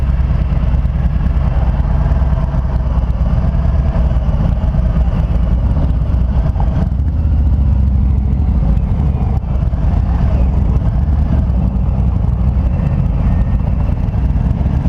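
2019 Harley-Davidson Low Rider motorcycle on the move, a loud constant engine rumble mixed with road and wind roar, steady throughout with no voices.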